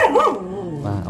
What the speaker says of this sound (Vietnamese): chó sủa quá.